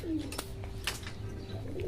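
Soft, low pigeon coos close by, a steady murmuring call with a few faint clicks and rustles around it.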